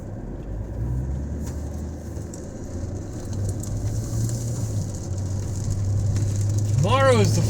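Steady rumbling road and engine noise from inside a moving car in heavy rain, with a wash of hiss from rain on the vehicle, under a voice talking.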